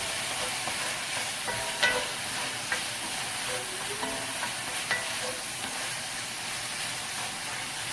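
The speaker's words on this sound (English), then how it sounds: "we're going to mix that all up. Make sure all the pieces are flipped over." Chicken pieces for honey butter garlic chicken sizzle steadily in a hot cast iron pan, a loud continuous frying hiss broken by occasional scrapes and clinks as they are stirred and flipped, with no talk.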